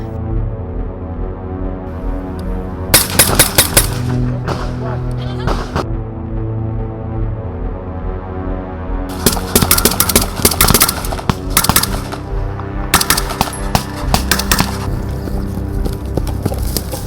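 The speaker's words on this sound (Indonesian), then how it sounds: "pesawat-pesawat tempur melakukan bantuan tembakan udara mendukung gerakan pasukan kawan" Loud bursts of rapid gunfire crack in clusters over a constant low rumble of heavy machinery or vehicles during an Indonesian military exercise with fighter aircraft giving air fire support.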